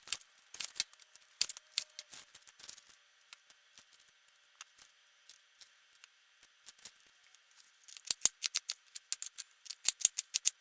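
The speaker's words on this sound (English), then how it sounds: "so I'm just going to cut up some onions." Onions chopped with a knife on a cutting board, quick clusters of sharp, close taps and crisp slicing clicks, sparse in the middle and faster and denser toward the end, with no talking.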